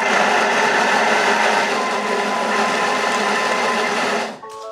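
A food processor minces meat with a loud, continuous high-pitched whir that holds steady for about four seconds, then cuts out abruptly and leaves a short mechanical hum.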